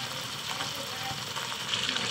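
Tomatoes fry in oil for a chicken curry, a soft even sizzle with light stirring, fairly quiet and continuous.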